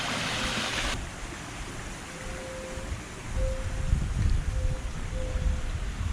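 Steady broadband rush of a waterfall pouring into a resort pool in Sint Maarten, a continuous watery hiss that swells louder midway, with faint tonal hums drifting underneath and no voices.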